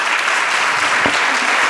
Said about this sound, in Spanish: Un aplauso enorme a este panel de cierre.